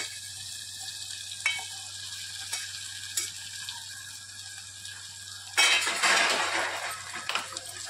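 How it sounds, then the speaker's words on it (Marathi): Fried ivy gourd (tondli) is stirred into masala in a pan, with a soft scraping of the spoon and scattered clicks. Then a louder burst of sizzling breaks out as the mix is turned over. "तोंडली छान मिक्स करायची आहे"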